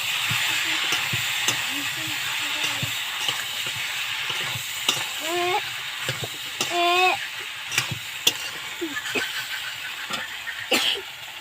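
Fish pieces frying in spiced masala in a pan give a steady broadband sizzle with stirring scrapes and clatter, close and fairly loud, while a voice briefly sounds in places.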